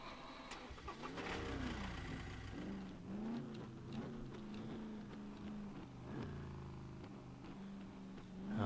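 The Rager car in the survival game Scum starts up and drives off, its engine rising and falling through several revs at a fairly quiet level with no talk over it.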